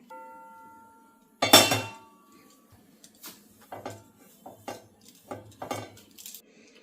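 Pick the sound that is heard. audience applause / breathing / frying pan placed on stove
frying pan placed on stove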